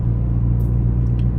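Deep, steady exhaust rumble from a Ford Focus ST with resonator and muffler deleted, loud and droning as heard from inside the car, continuous throughout.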